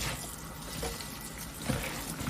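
Cabbage leaves are rinsed under running water for a tender cabbage and smoky ham hock dish, a soft steady splashing and trickling close by with a few small sloshes.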